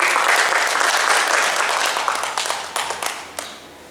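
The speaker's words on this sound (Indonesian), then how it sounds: "Kita beri aplaus dulu untuk beliau." A room of people applauds a speaker at a teachers' presentation, with dense, steady clapping that starts loud and slowly thins out into a few scattered claps at the end.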